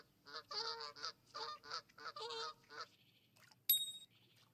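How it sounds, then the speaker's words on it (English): Geese honk in rapid clustered bursts in the fishing game Fishing Planet, fairly near against a quiet outdoor background, followed by a pause and a brief sharp click. "I'm sick of these geese."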